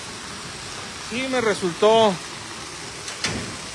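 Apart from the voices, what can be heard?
rain falling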